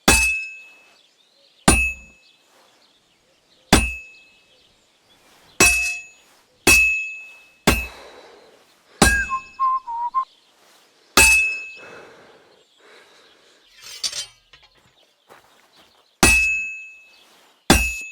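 Hammer blows ring on hot metal at a forge anvil in the Kingdom Come: Deliverance II game, about ten sharp metallic clangs at irregular intervals, loud and close, with faint scraping and a brief higher chime between strikes.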